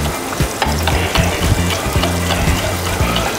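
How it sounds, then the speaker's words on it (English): Brown sugar is stirred into vegan crispy cauliflower pad thai in a hot pan, a loud close sizzle with a rhythmic series of spatula scrapes and knocks against the pan. "we're just gonna give this a stir"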